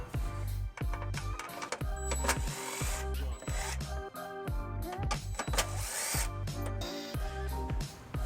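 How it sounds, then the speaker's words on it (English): A 10mm socket on a power tool spins off two nuts on the frame panel of a 2016 Ford Edge, making short repeated whirring bursts over background music. "we'll remove these 2 nuts with a 10mm socket"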